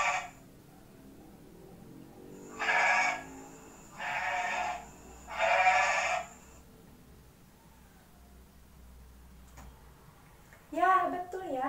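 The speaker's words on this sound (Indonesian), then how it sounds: "Coba kita dengarkan bagaimana suara kambing." A goat bleats three times in a row, each call a clear, wavering cry about a second long with short gaps between, followed by a quieter pause and a brief voice at the end.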